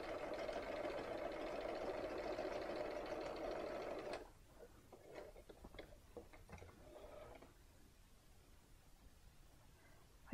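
Sewing machine stitching quilt fabric, a corner triangle piece for a barn-themed quilt block, running steadily and fairly close for about four seconds before stopping, followed by quieter handling sounds of fabric.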